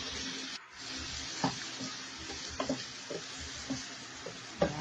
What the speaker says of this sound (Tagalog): unahin na natin ang oil, garlic, onion,